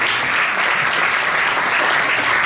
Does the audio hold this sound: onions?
no